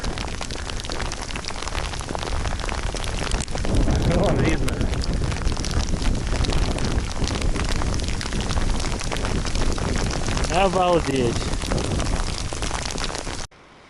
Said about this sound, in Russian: Ну, вовсе град пошел.